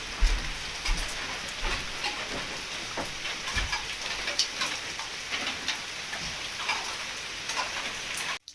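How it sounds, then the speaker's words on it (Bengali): Steady rain falls outside a tree house stay near Kolkata, a dense even patter with no voices, continuous for the whole stretch. "বাইরে বৃষ্টি পড়ছে"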